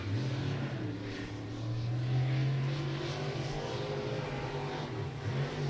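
A stock race car engine at Beckley Motor Speedway howls through a qualifying lap, a sustained loud drone that rises and shifts in pitch as the car runs the track, with a track announcer faintly present.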